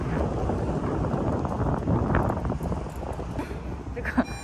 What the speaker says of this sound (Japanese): 風が吹いてるの？